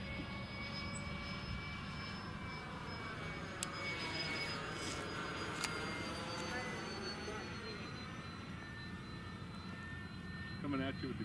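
A Freewing A-10 RC model jet flies overhead through forest-fire smoke, giving off a steady whining drone whose pitch sweeps as it passes, with faint voices nearby.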